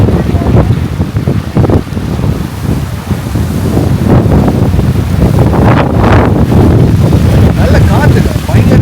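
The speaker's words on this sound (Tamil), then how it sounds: "நல்ல காற்று, பயங்கரமான ஒரு காற்று அடிக்குது." Strong wind buffets the microphone at the Aruvikkuzhi valley viewpoint near Thekkady, above a deep drop with the Mullai Periyar river below, a loud continuous roar with gusty surges throughout.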